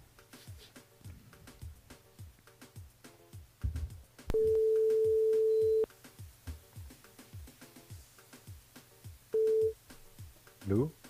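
A telephone ringback tone while a radio host dials a caller from Saint-Philippe, two long steady beeps heard under continuous live studio talk and background music.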